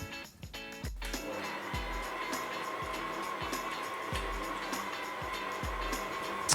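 A Major Titanium stand mixer running at its lowest speed, mixing caramel and chocolate: a steady motor whir with a soft low thump repeating at a regular, even rhythm.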